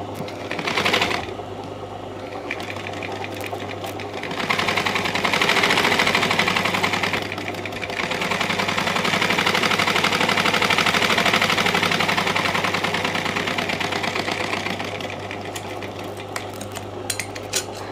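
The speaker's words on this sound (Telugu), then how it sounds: "చిన్నగా వన్ సైడ్ మలిచి కుట్టుకోవాలి ఇది" Sewing machine stitching the neck edge of a long boat-neck frock, a steady mid-pitched whirring run lasting most of the clip with brief pauses and restarts, close and fairly loud, no talking.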